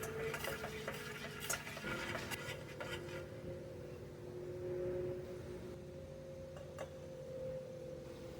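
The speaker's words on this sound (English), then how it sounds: "and stir in the rice." A spoon scrapes and stirs rice grains into simmering liquid in a pot for Spanish rice, with soft clinks and a gentle simmering hiss underneath, close and fairly quiet.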